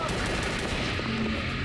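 Rapid automatic SMG fire in the Drake of the 99 Dragons video game, a dense continuous rattle of shots, moderately loud with muffled game noise behind it.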